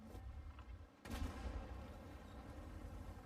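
Tank cannon fire in World of Tanks, a Tier VI MT-25 match: a loud, sharp blast lands about a second in over a steady battle rumble, with a few fainter distant shots around it.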